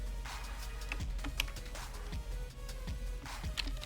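Typing a sudo wget command on a computer keyboard, a steady run of close, crisp key clicks with an occasional heavier thump, alone and without speech.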